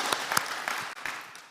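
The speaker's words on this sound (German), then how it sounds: "Vamos a darle un buen aplauso." A church congregation gives a round of applause, sharp individual claps standing out in an uneven, moderately close burst that tapers off over a second or so.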